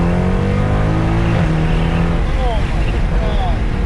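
Naturally aspirated RB26 engine revving in a Datsun 240Z: a loud, harsh engine roar that rises and falls in pitch through quick revs, very close and filling the whole stretch, with a person talking over it.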